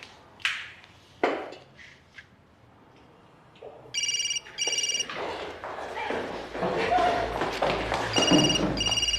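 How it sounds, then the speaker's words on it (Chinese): A telephone rings in repeated bursts in a tense drama scene, the electronic ringing cutting in twice amid low background sounds and some speech. "接电话"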